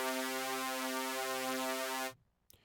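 A sustained, rich string synth chord with chorus effect, gently wavering and shimmering, holding steady before stopping abruptly.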